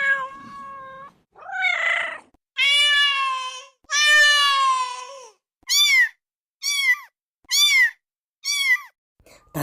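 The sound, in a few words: children imitating a cat meowing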